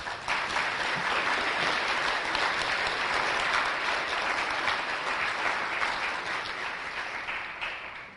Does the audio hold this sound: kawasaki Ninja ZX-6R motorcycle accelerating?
no